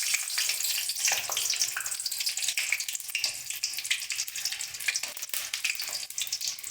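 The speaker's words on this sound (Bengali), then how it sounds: "এবার এর মধ্যে আমরা লঙ্কাটা ভেজে নেব।" Dried red chillies fry in hot oil in a pan for a fish curry, giving a dense, steady sizzle with bright crackling and spitting that runs unbroken throughout, close and loud, with no voices.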